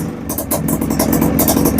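A Honda Odyssey FL250 with a GT250 engine idles close by after an airbox and element install, a loud, steady mid-pitched engine chug with rapid rhythmic pulses and some mechanical clatter, no voices.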